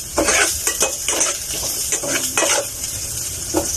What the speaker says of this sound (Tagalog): Igisa man natin yung bawang,